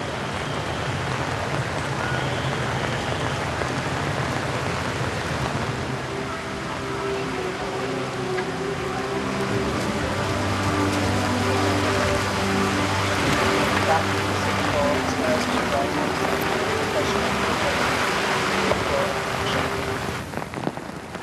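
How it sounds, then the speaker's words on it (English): Heavy rain pours steadily during a state funeral procession for Lee Kuan Yew along Shenton Way, a constant hissing wash with passing vehicle hum and distant crowd murmur underneath, loud and unbroken throughout. "Heavy rains,"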